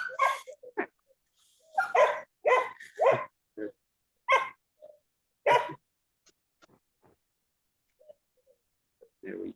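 Several dogs bark in bursts close by, loud yaps and barks with short gaps between them, breaking out over a quiet indoor setting during an online aikido class.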